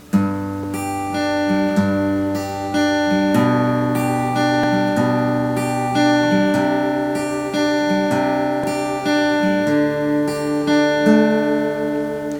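A guitar plays the plucked intro melody of a song steadily with sustained bass notes underneath, a clear instrumental passage without any voices.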